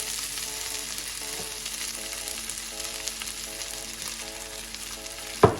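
A spice mix frying in butter and oil with whole garam masala, a steady close hiss and crackle of sizzling, with faint musical tones in the background and a sharp clink at the end.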